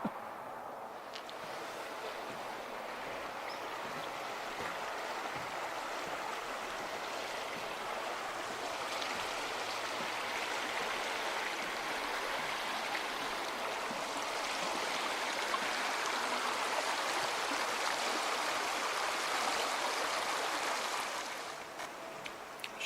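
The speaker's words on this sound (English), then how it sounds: "a pretty river that flows through here" The Merced River in Yosemite National Park rushes continuously, a broad, even wash of sound with no voices, growing slightly louder toward the end.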